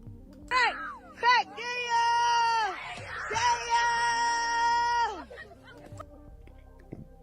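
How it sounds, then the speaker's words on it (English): A young boy screams and yells loudly in several bursts, with long sustained shrieks up close and a few shorter cries between them before it trails off. "What's with the screaming, little boy?"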